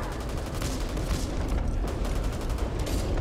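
Rapid gunfire crackles through a Back 4 Blood match, with dense bursts of shots and muffled booms mixed into continuous game noise.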